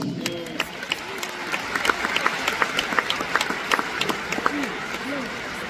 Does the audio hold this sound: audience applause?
yes